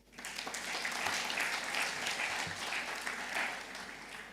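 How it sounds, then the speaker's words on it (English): A crowd applauding steadily at a tech launch event in Uganda, a dense patter of many hands clapping at moderate volume with no voices over it. "we need to give them a big round of applause"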